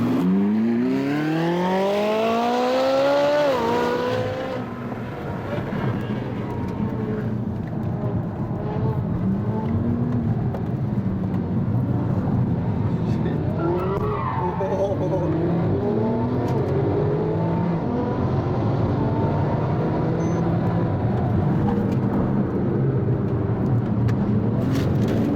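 Race cars run one behind the other in a Porsche 911 Turbo versus Ferrari 458 convertible contest, engines revving and shifting loudly throughout, with rising and falling pitch sweeps as they accelerate and chase.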